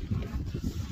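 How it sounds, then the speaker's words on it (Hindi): Strong, steady wind buffets the microphone at Banff National Park in Alberta, Canada, a loud continuous low rumble with gusty fluctuations and no voices. "यहाँ पे मुसलसल तेज हवा चल रही है"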